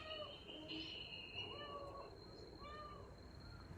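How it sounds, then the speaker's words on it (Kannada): A trapped kitten meows from somewhere inside, giving several faint, drawn-out cries over a steady background hum, muffled and distant. "ಎಲ್ಲೋಯ್ತು ಸೌಂಡ್ ಬರ್ತಾ ಇದೆ, ಮರಿ ಮಾತ್ರ ಕಾಣಿಸ್ತಿಲ್ಲ ಅಂತ ತೆಗಿಯೋಕ್ಕೆ ಟ್ರೈ ಮಾಡ್ತಿದ್ವು, ಒಳಗಿದೆ ಮರಿ ಅಂತ"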